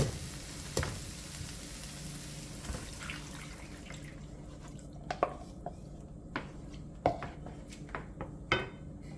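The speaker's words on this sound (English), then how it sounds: "So now I'm going to add my coconut milk." Coconut milk poured into a hot pot with very little oil for a Jamaican salt mackerel rundown gives a soft, steady sizzle with faint liquid drips and occasional clinks, quiet and close.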